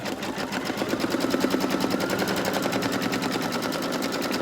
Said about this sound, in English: now we're going to do the satin stitches going around